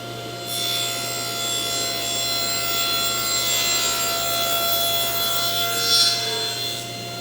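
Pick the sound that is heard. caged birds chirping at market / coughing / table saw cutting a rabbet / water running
table saw cutting a rabbet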